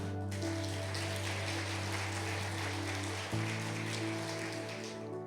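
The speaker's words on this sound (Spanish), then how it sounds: "Denle un aplauso al Señor por eso." Church congregation applauding during a sermon, a faint, steady rain-like patter of distant hands under a constant low hum, continuing evenly throughout.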